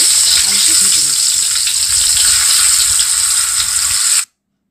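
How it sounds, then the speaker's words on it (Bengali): Boiled potatoes frying in hot oil with salt and turmeric give a steady, loud sizzle that runs continuously for about four seconds and then cuts off abruptly. "সামান্য একটু নুন আর হলুদ দিয়ে আলুটা ভেজে নিচ্ছি।"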